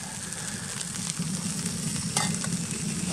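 Snow melting into water for coffee sizzles and crackles steadily in a pot over a campfire on a frigid winter overnight camp, a continuous close hiss with small pops.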